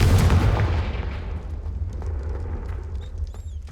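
A Confringo fire spell explodes in the Hogwarts Legacy video game: a loud, close boom at the start that fades into a lingering rumble over about three seconds, with faint chiming tones near the end.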